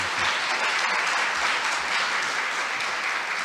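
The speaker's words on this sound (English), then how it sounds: "A big round of applause once again, Jonathan." An audience at a health care innovation awards event gives Jonathan dense, steady applause, a continuous wash of clapping at even loudness without voices.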